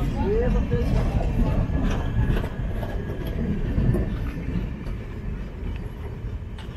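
The Sriganganagar Express pulls out of Mookambika Road station at Byndoor, a low continuous rumble of rolling wagons on a single-line track, with a voice talking over it.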